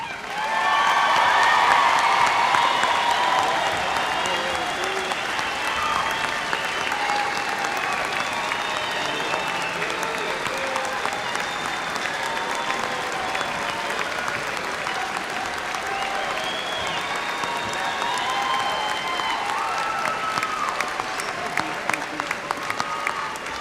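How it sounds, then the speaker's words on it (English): A commencement audience applauds graduates at a spring ceremony, a long sustained wash of crowd clapping with occasional cheers and whoops, steady and fairly far off in a large hall. "let's give them one more round of applause"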